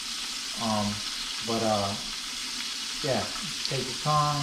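Redfish frying in hot oil, a continuous bubbling sizzle running underneath, while someone talks over it in short bursts.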